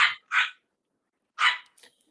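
A little dog barks three times, loud and sharp, in a quick pair and then a single bark after a short pause, followed by a faint yip.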